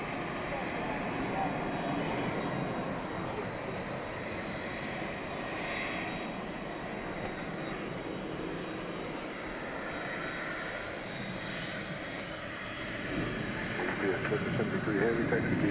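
A large airliner arriving at DFW Airport from Houston produces a steady, broad engine roar that persists continuously and swells slightly toward the end, heard from a moderate distance with no talk over it.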